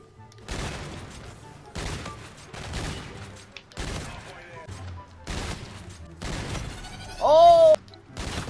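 Gunfire in a one-on-one video game match comes as loud, sharp bursts of shots about once a second, each crackling burst separated by brief gaps, with a short whistling tone near the end.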